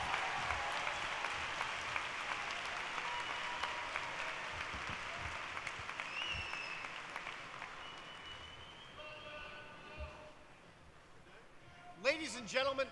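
Audience applause at a university graduate ceremony after doctoral degrees are presented, a steady, moderately faint patter that fades toward the end as a voice speaks over a microphone.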